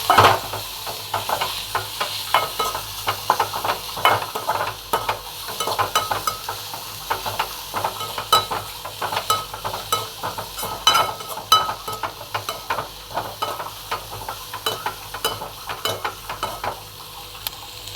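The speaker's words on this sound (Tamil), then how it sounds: "போட்டு நல்லா வணக்கலாம்" Tomato, curry leaves and green chili sauté in a hot pan for a green peas curry, with a steady close sizzle and frequent scraping stirs throughout, no talk.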